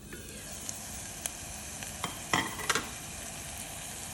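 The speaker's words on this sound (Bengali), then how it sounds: "তেল দিয়ে দিলাম, এর মধ্যে দিয়ে দিচ্ছি পেঁয়াজ, গরম মশলা" Chopped onion and garam masala frying in oil in a pan, a faint, steady sizzle broken by a few small clicks and pops.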